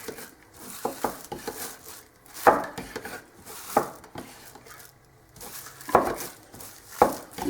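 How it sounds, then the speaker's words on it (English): A tool scrapes and clinks around inside a can of thick gel stain, giving repeated knocks and scraping strokes in an irregular rhythm, close and moderately loud. "just give it a stir, kind of dig at the bottom and pull it up"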